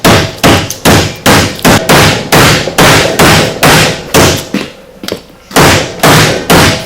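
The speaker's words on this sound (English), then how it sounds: "use this to drive the new bearing in place" Repeated firm hammer blows drive a new Quadboss front wheel bearing into a RZR 900S hub, about fifteen loud metallic strikes in a steady rhythm with one brief pause, no talking.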